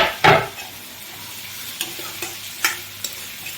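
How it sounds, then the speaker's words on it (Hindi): Garlic, onion and green chili frying in oil in a pan, a soft steady sizzle with a few brief louder scraping stirs, close and quiet with no talk. "इस तरह से यहाँ पर ये गोल्डन ब्राउन होने तक के लिए इसे मैं भूनूंगी"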